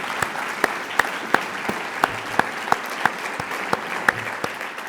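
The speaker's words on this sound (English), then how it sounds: "We need to give a round of applause to my poor children" An audience at a dinner applauds, with a steady bed of clapping broken by a series of sharp, louder individual claps from nearby hands, evenly spaced throughout.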